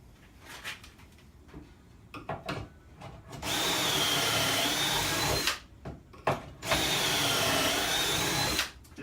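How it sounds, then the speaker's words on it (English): A power drill bores pocket holes through wood held in a Kreg Jig clamped tight. It whirs loudly in two long sustained runs, with short handling clicks and knocks before and between them. "and then very easily drill my holes."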